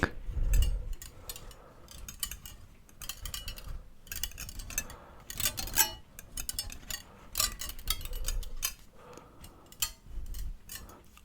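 A metal whisk is handled close to the microphone for ASMR, making crisp, scattered ticks, clinks and rattles in irregular bursts with short quiet gaps and no talking.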